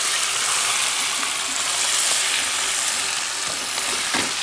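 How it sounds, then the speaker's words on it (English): Two pieces of food quick-frying in hot oil, a loud, steady, close sizzle with dense crackling that continues unbroken, with no voices over it. "We're going to quick fry them for 3 to 4 minutes."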